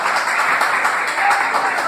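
Steady applause from a congregation at a church worship service, a dense even wash of clapping lasting the whole stretch with no voices standing out.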